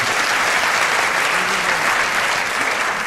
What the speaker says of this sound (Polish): Rozumiem, że brawa zaocznie też wystarczy.